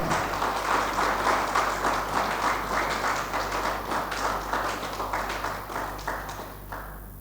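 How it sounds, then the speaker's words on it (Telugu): An audience claps loudly and steadily at a meditation training session at a police academy, a dense, continuous patter of many hands that slowly thins toward the end. "గట్టిగా చప్పట్లు కొడదాం మెడిటేషన్కి."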